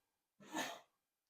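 A single short sneeze, soft and fairly close, in an otherwise quiet room.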